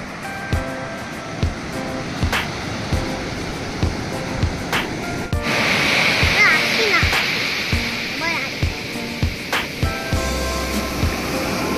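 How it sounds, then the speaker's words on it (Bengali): Strong sea waves surge and rush onto the beach at Hutbay, Little Andaman, a steady close roar of surf with a heavier swell midway, and occasional voices nearby. "বুঝছো কত জোরে জোরে জল আসে।"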